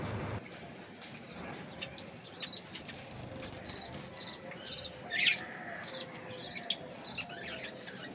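Pet birds in an aviary chirping, with short bright tweets and calls scattered over a low background hum and a few faint wing flutters, moderately close.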